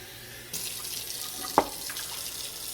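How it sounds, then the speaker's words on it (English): Water pouring from a tap into a jar for sourdough starter, a steady splashing stream that starts abruptly, with a brief clink partway through. "now I'm going to put some water in it"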